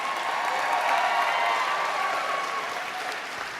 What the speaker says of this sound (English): could you give a round of applause to those people who supported you while you were studying?